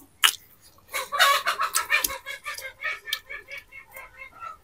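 Chicken squawking in distress as a jackal catches it, a loud burst of rapid, repeated frantic clucks and shrieks close by, continuing in an uneven series.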